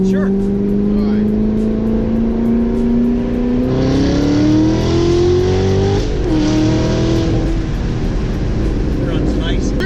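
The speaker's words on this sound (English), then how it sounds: "Yeah, that Camaro sounds pretty good. Ready for a little second gear action?" A Chevrolet Camaro engine revs loud and close, its note climbing steadily as the car pulls hard in second gear, then easing briefly and building again, with a person talking faintly underneath.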